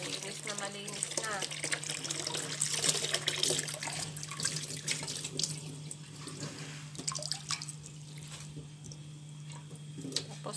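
Bitter gourd (ampalaya) leaves are rinsed in a basin on their fifth wash, with steady splashing and trickling water from a tap over a low hum, while someone talks.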